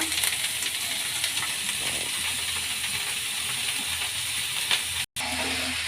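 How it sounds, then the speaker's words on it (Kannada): Oyster mushrooms hit a hot pan already frying green chillies and hiss in a continuous, fairly loud sizzle, with a brief dropout near the end and no talking. "ಚೆನ್ನಾಗಿ ಫ್ರೈ ಆಗಲಿ ಈಗ ಸಿಂಪಿ ಮಶ್ರೂಮ್ನ ಸೇರಿಸ್ಕೊಳ್ಳೋಣ"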